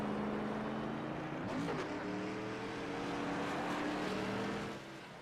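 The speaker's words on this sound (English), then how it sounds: "It was a late shift. You can hear the engine." Drag race car engine at full throttle, a loud sustained roar with a sharp pitch drop around a late gear shift before the drone climbs again and then fades slightly at the end.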